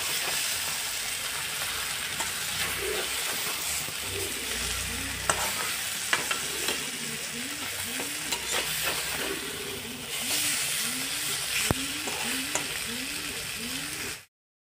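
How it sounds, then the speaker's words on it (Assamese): A fish head frying in a pan and being turned over, loud continuous sizzle with repeated scraping strokes of a spatula in a steady rhythm, close up, a faint voice now and then. "ধুনীয়াকৈ মাছৰ মাথাখিনি এনেদৰে ওলট পালট কৰি ভাজি ল'লোঁ।"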